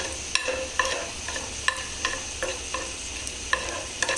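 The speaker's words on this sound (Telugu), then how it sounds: "ఇవి కొంచెం వేగాక" Ingredients for an amaranth leaf stew being stirred in a pan over a soft sizzle, with a spatula scraping and tapping against the pan at irregular intervals, close and fairly quiet, no talking.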